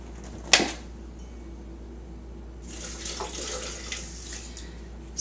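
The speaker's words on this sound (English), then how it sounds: "so I'm adding 4 cups of water" Water poured into a cooking pot for a grain breakfast porridge, a sharp clank at the start, then a few seconds of quiet before a soft, steady splashing stream builds up.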